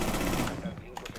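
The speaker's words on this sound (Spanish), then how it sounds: "Voy a disparar ahora con el arma" MX4 gunfire in Rainbow Six Siege, a dense rattling burst of automatic shots that fades out after about half a second, with a voice briefly under it.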